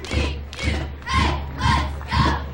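A homecoming crowd at a 1995 college football game between Buena Vista and Upper Iowa roars in five rhythmic swelling bursts, a loud chanting cheer that rises and falls about every half second under a steady low hum.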